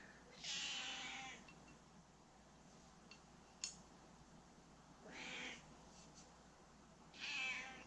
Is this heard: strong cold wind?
no